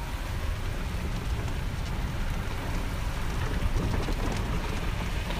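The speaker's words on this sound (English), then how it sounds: "Bet we don't see Cameron out in this rain" Steady heavy rain pours continuously, a dense hiss of drops on surfaces with no voices.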